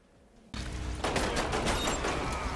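Rapid gunfire erupts in the Umbrella Corps shooter game, a dense burst of shots starting suddenly after a quiet moment and growing louder and busier, heard close and without talk.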